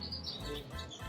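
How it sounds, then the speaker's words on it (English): Birds chirp at a hotel in a tropical setting in Copper Canyon, Mexico, a few short, fairly faint tweets over soft background noise. "Oh, there's a bird right there. They've been making a noise since 5 o'clock."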